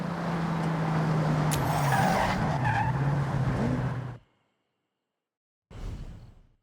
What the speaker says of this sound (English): Bring your car to a full stop.